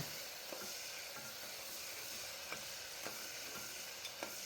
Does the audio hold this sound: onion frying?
yes